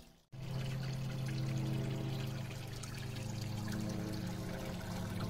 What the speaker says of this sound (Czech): A na tomto potoce je další místní rarita – Plešnické vodopády.